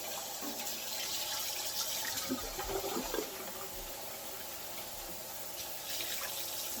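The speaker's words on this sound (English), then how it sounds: "Put some cool water over them." Cool tap water runs over potatoes in a kitchen sink to rinse off the starch, making a steady, close rushing splash with slight shifts in texture and no talking.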